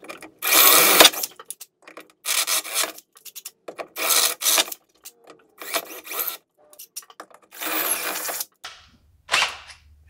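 A drill bores through a Jeep Wrangler hardtop in repeated loud, rasping bursts of one to two seconds each, separated by short pauses, close up with no talking.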